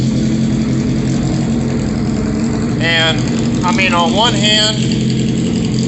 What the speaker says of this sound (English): it's a fucking lawnmower with a motorcycle engine. It's supposed to be loud.